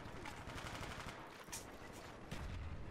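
Gunfire in the co-op mode of the video game Call of Duty: Black Ops, quiet bursts of automatic shots and scattered cracks in a busy firefight, faint and continuous.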